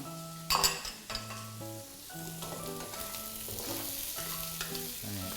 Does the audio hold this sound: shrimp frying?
yes